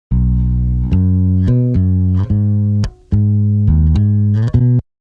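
A deep synth sub bass preset plays a short sequence of sustained low notes, changing pitch every half second or so, loud and alone.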